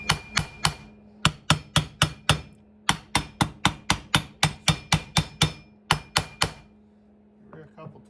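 A small hammer taps on a Homelite Super Mini chainsaw during crank seal work, giving a quick series of sharp, close metallic knocks in uneven bursts, followed by brief quiet handling.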